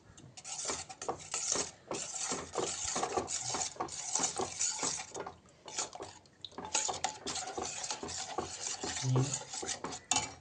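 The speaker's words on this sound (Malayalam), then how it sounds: "ഇനി നല്ലവണ്ണം ഇളക്കി കൊടുക്കണം." Arrowroot flour porridge stirred in a pot with a spoon, steady scraping and rasping strokes repeating continuously at close range, with no talk.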